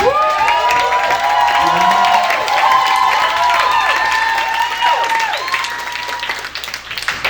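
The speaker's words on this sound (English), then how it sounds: "I think a round of applause is in place for Sony, Rooney," Guests at an evening wedding celebration applaud together, a loud sustained round of clapping and cheering mixed with a prominent tonal hum or music that fades slightly toward the end.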